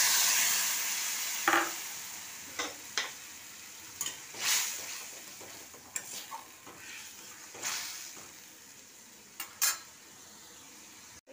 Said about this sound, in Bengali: এটাকে খুব ভালোভাবে নাড়তে হবে যাতে তলায় ধরে না যায়।